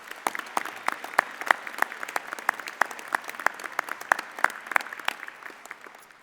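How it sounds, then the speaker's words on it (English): An audience applauds at a university midyear undergraduate commencement ceremony, sustained moderately distant clapping with sharp individual claps standing out over the steady patter. "So I'd also like to give a round of applause to our Blue Key Honor Society members and the alumni donors who've made that possible."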